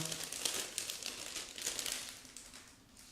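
Continuous crinkling of thin plastic being handled and pulled open close up, a steady rustle with small bursts and no talking.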